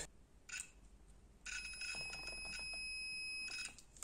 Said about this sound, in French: je vais toucher et vous allez voir, ça va faire un bip